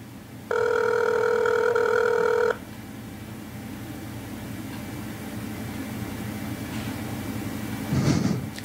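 A telephone call ringing out, one steady electronic ring tone lasting about two seconds over a constant hiss of line noise, followed by a quiet stretch of the open line.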